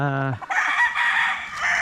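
A rooster on a chicken farm in breeding season lets out one loud, close crow lasting a couple of seconds, rising after a short lower note and then holding a bright, strained cry.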